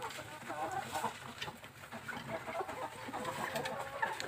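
Chickens cluck softly inside a coop where a few birds suffer from snot with swollen eyes, giving scattered low clucks and murmurs nearby while a person talks over them.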